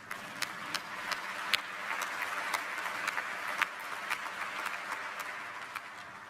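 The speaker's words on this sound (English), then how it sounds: "give yourself a clap for that" Graduates at a 2024 commencement ceremony clap together in a faint, distant, steady round of applause, with no talk over it.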